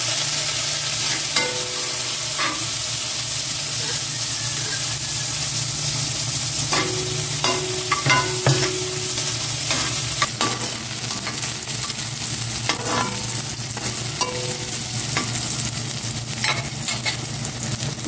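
Chopped onion sizzles steadily in hot olive oil, close and loud, with repeated scrapes and clinks of stirring throughout.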